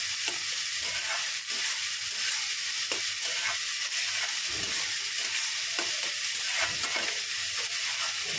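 Red spinach fries in a wok under a constant loud hissing sizzle, with regular scraping strokes of a spoon stirring the leaves throughout.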